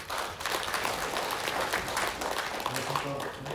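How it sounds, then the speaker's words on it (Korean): Audience applause during a regional policy forum session, a fairly faint, continuous patter of clapping that fades toward the end while a voice begins speaking over it. "박수 부탁드립니다"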